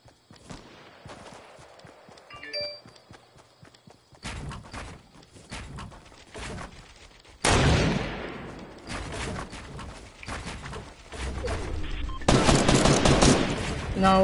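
A minigun fires in a shooter video game, bursts of rapid gunfire starting and stopping, growing louder and denser toward the end, with brief quiet gaps between volleys.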